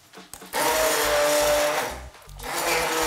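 A blender whirs loudly as it purees apple and a garlic clove into a sauce, with a sharp start, a steady high motor whine for about a second and a half, a short dip, and then a second burst.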